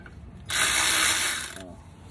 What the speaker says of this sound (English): Use my ratchet.